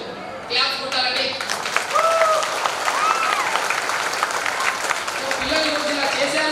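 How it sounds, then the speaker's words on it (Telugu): An audience at a school anniversary event claps for a teacher, with a steady wash of applause running throughout. Voices and some shouts rise over the clapping. "ఖచ్చితంగా ఆయనకి ప్రతి ఒక్కరు క్లాప్స్ కొట్టాలండి"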